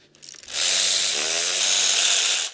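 A ratchet fitted with a 5/8 spark plug socket working on a VW Scirocco R engine gives a few faint clicks, then a loud, steady buzzing rattle lasting about two seconds before stopping abruptly.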